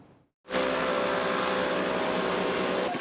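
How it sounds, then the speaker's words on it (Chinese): A modified motorcycle exhaust roars loud and steady at close range, starting abruptly after a brief silence and holding a sustained droning rumble to the end. "机车排气管发出轰隆轰隆声响"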